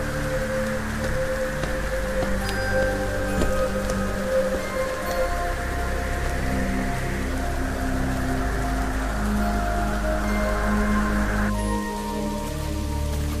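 Heavy rain pours in a Kalbaishakhi storm, a dense, steady hiss of drops on surfaces throughout, with a low rumbling background and a slight change in the wash near the end.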